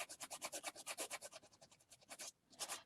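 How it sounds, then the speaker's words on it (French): A crepe rubber eraser rubs dried masking fluid off watercolour paper in quick, steady back-and-forth strokes, a close, soft scratchy rasp with a brief pause near the end. "pour enlever le drawing gum, une gomme crêpe"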